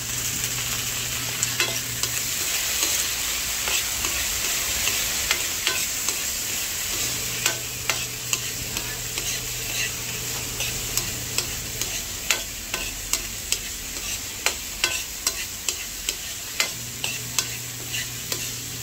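Squid adobo with tomatoes being stirred in a hot pan, steady sizzling and frying under repeated close scraping strokes of a utensil that quicken toward the end.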